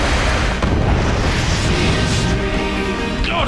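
A smart bomb detonation in the space game EVE Online: a dense, sustained roaring blast that fills the whole moment, loud and continuous with rumbling booms and no voices over it.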